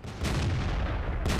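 The main gun of an ELC AMX light tank in World of Tanks fires a single heavy booming shot with a long rumbling tail, and a second blast starts just at the end.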